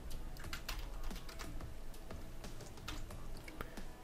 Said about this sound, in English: All I have to type is VLC